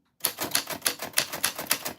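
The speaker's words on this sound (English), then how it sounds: "that is what your name sounds like on a typewriter" Typewriter keys strike a name in a steady series of about eight crisp, evenly spaced clacks, close and fairly loud, with nothing else in the background.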